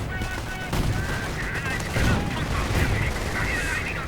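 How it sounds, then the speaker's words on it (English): MG-42 machine gun fire in a World War II strategy video game: continuous, fairly distant bursts of gunfire mixed with battle noise under a commentator's steady talk. "Not looking good, right from here, suppressed by the MG-42."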